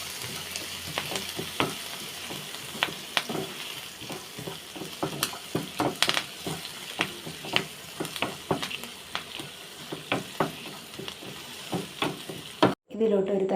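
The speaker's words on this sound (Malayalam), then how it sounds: "ചതച്ച് വെച്ച കൊച്ചുള്ളിയും വെളുത്തുള്ളിയും പച്ചമുളകും കറിവേപ്പിലയും എല്ലാം കൂടി ഇട്ട് നല്ലപോലെ ഒന്ന് വഴറ്റിയെടുക്കുക." Crushed shallots, garlic, green chilli and curry leaves sauté in hot oil, giving a steady sizzle broken by repeated sharp stirring scrapes and knocks in the pan, close and clear, with no talk.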